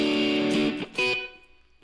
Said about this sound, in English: So what have we got in there? So we've got a distortion.